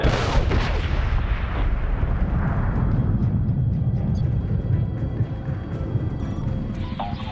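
Bombs explode in a continuous, heavy barrage in the video game Medal of Honor (2010): loud, booming detonations that roll into one another, with sharp cracks at the start and a rumbling tail that stays dense throughout.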